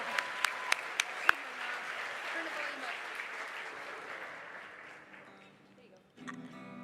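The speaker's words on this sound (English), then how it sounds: "give another round of applause for Lauren Kyoto" Audience applause at the She Rocks Awards for performer Lauren Kyoto, opening with a few sharp nearby claps, then a broad steady clapping that gradually fades out, followed by a voice starting to talk.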